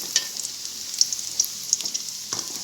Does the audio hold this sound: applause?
no